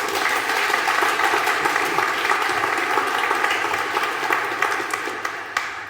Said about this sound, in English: can you give them a little round of applause?